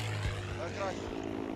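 A propeller plane drones as it goes down in a crash dive in Battlefield 5, its engine a steady low, loud hum with a faint rising whine over it.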